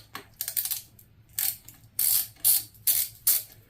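A hand ratchet works an 8 mm bolt off a tab on a Honda XR650L motorcycle, giving a string of short, crisp clicking bursts in irregular groups, close and fairly quiet, with no voices.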